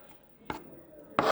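Two sharp knife chops on a cutting board through vegetables being cut into smaller pieces for chicken wraps, a short chop followed by a louder one, close and alone.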